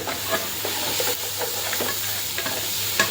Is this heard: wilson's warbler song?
no